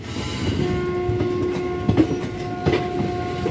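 A passenger train running through Tapri Junction on the way to Roorkee and Haridwar, taking a right turn with a steady rumble, a sustained horn tone and a few clacking wheel hits over the track.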